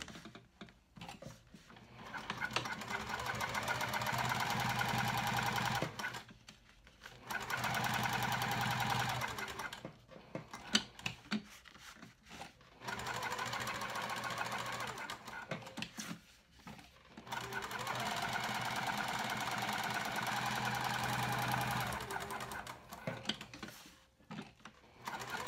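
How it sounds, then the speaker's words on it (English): A sewing machine top stitches around a cork bag handle, running in long steady mechanical bursts of rapid needle clatter separated by short pauses, close and loud. "now I'm going to top stitch all the way around the entire handle at 1/8 seam allowance"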